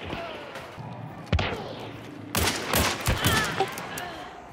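Video game shootout gunfire with several loud bursts and single shots, one sharp crack early then a dense cluster of overlapping shots in the second half, close and punchy over a busy game background.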